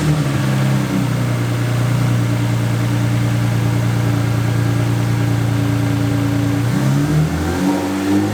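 Audi S4 Bi-Turbo engine being revved, holding a steady raised drone for several seconds before dropping back toward idle, loud and close by.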